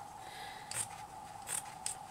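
Scissors snip through fabric being trimmed for a vintage-style shoe pin cushion, three short crisp cuts spaced apart, close and fairly quiet.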